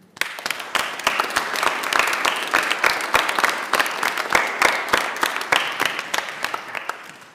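Audience at a 2022 school commencement ceremony breaking into sustained applause, a dense, even wash of many hands clapping at moderate distance that holds steady throughout and fades slightly at the close.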